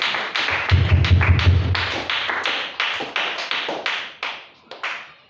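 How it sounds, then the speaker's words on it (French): Schoolchildren in a classroom applaud three classmates who answered, a burst of rapid crowded clapping that thins into scattered, separate claps before fading out. "Acclamez très fort pour les trois qui ont répondu"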